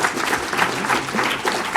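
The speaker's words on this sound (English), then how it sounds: "A round of applause for Marco." Conference audience at DConf 2019 lightning talks gives a brief burst of steady, dense applause from many hands, close and even throughout.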